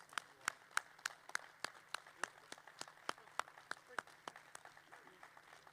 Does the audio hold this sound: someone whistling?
no